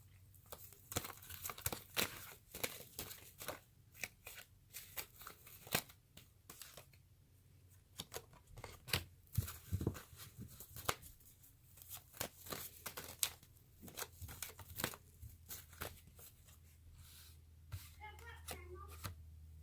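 Tarot cards are shuffled by hand in a long, uneven series of soft slaps and rustles, close by, with faint background hum and occasional voices.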